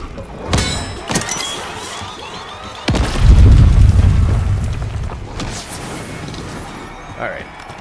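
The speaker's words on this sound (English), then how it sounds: "Essence bomb on the rubble next to the armor" A Black Ops 6 Zombies essence bomb goes off on rubble beside armor: several sharp thumps, then a deep rumbling boom near three seconds that swells and slowly decays, with scattered game effects after.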